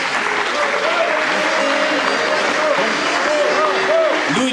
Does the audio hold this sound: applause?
yes